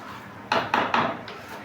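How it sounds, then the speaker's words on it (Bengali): A pot of rice and potatoes being stirred while cooking chicken biryani, three quick close scraping knocks of a spoon against the pot followed by a fainter fourth. "চালগুলো ভালো করে দিয়ে নাড়াচাড়া করছিলাম।"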